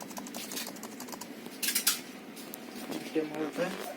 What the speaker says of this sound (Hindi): कीबोर्ड भी खराब है, एंटर के काम नहीं कर रहा है।